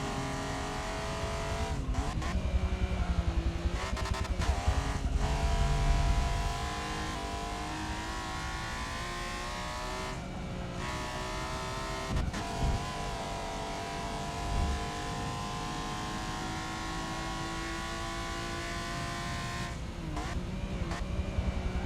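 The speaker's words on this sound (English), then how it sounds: "Gotta get these tires warmed up. Now we're targeting a 136 or better. Let's see if the supercharger gets us there." Supercharged race car in Forza Motorsport 7 revs hard and accelerates through gear changes, engine note rising and dropping with brief gaps at shifts and some tire squeal, loud and continuous.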